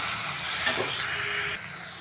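Onion and tomato sauté in a pan over a high flame, a steady close sizzle and hiss that runs unbroken and then softens slightly near the end.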